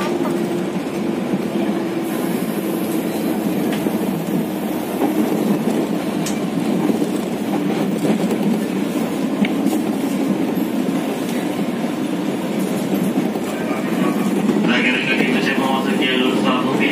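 KRL commuter trains running side by side into Manggarai station, a loud continuous rumble of wheels and carriages with rhythmic rail clatter and occasional high squeal, with voices talking over it.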